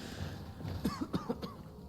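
A character in the video game Oar's Rest coughs several times in a quick raspy series, fairly close but quiet.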